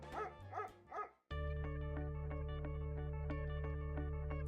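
A dog gives three quick barks in the first second, followed after a short gap by a loud, steady musical tone that continues to the end, with no talking.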